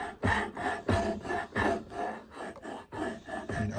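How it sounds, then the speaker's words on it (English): Steel rasp drawn in repeated rough strokes over an old axe head being restored, about six rasping passes in a steady back-and-forth rhythm, close and moderately loud with no talking. "I'll use my rasp here"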